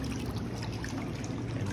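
Water running through the system of a LUXSPA x1 LS250 black pedicure chair, a steady, close trickle and gurgle that holds unbroken throughout.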